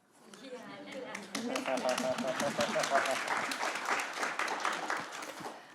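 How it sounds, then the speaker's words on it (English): Brief, modest applause from a conference audience breaks out after a spoken line, a few seconds of scattered clapping that swells and holds steady while a voice speaks. "There's a little clap there."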